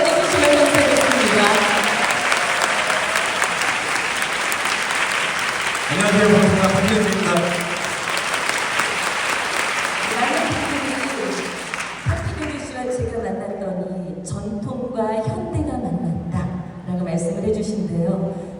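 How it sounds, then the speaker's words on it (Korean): A church anniversary charity concert audience gives sustained loud applause for about twelve seconds, then it fades as speech takes over and continues alone. "큰 박수!"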